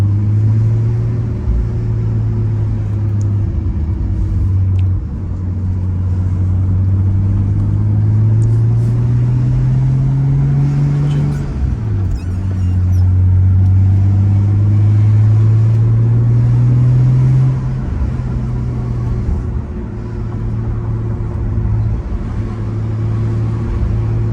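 A Nissan R33's engine drones steadily up close, its pitch rising under acceleration, dropping sharply at a gear change, then climbing again, with no talking.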